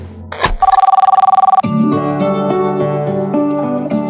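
A telephone rings in a rapid electronic trill for about a second, then music with a steady beat takes over.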